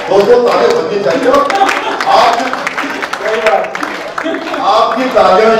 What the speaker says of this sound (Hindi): दोस्तों तालियां बननी चाहिए